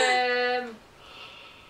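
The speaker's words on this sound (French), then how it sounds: "T'es en train de bailler dans mon micro" A person yawns close to a microphone, producing a drawn-out voiced tone that fades into a breathy exhale, alone and brief.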